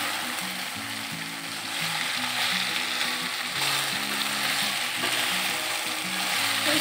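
Chicken kossa with potatoes sizzles steadily in a pan, a dense, close frying hiss with faint scraping and clinking of stirring, no speech.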